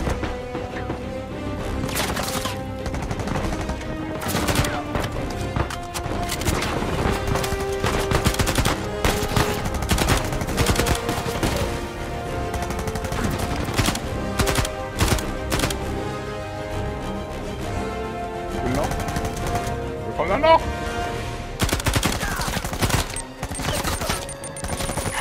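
Sustained automatic gunfire in the video game Uncharted 4, dense bursts of shots and impacts crackling loudly and almost continuously, with brief lulls between volleys.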